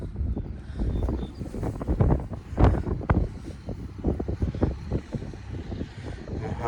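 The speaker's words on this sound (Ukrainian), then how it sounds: "Вітер неможливий." Strong, gusty wind buffets the microphone in rough, low rumbling bursts throughout in an open crop field, with no talking.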